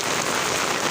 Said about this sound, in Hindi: कितनी शदीद बारिश है।